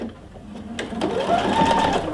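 A sewing machine stitching elastic into a drawstring waistband runs with a steady, close, whirring hum that builds slightly over a couple of seconds, with a light mechanical ticking under it.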